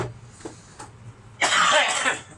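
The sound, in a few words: cough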